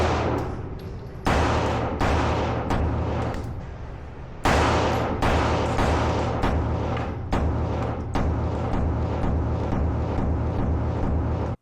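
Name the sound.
gunshots fired through a Holosun 507 Comp red dot sight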